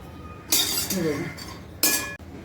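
Dry coconut being roasted in a pan is stirred with a spoon, producing a couple of scraping, clinking strokes against the metal with a brief quiet gap between them.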